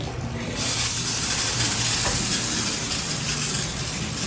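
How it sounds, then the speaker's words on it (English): A shower head sprays after a ring-style diverter is pulled down, the spray rising into a loud, steady hiss that fills the bathroom with no voices. "and the shower head begins to flow"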